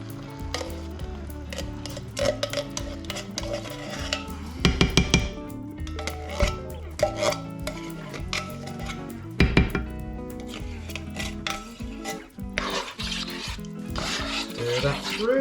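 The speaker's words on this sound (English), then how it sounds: "Stir that through." Coconut milk being stirred into butter chicken in a pot: steady loud sizzling and bubbling with repeated scraping strokes of a spoon against the pan, close up and continuous.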